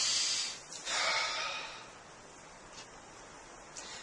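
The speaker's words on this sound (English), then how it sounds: "And take a deep breath." A deep breath taken during a calm tapping exercise, a loud airy inhale followed by a long softer exhale, close to the microphone with no talking.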